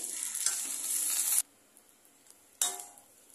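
Aloo kachori deep-frying crisp in rice bran oil, a loud steady sizzle that cuts off abruptly, leaves a quiet pause, then bursts back in and slowly fades.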